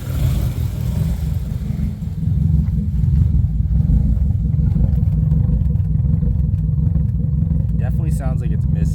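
A car engine with a misfire idles and runs through its exhaust, giving a heavy, uneven low rumble that continues throughout, with a voice speaking near the end.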